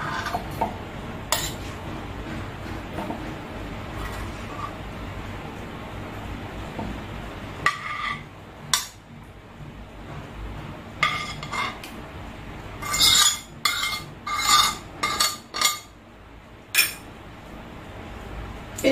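Fish and spices being put into a tiffin box, with a low room hum, then a run of sharp metallic clinks and taps from a spoon against the container, some clustered and quick, close by.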